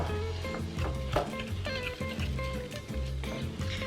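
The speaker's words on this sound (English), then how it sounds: "Basically, it's just all of your dry ingredients that we're mixing together." A whisk stirring dry ingredients for pumpkin bread in a bowl, giving a repeated scraping, rustling rhythm at close range that continues steadily for a few seconds.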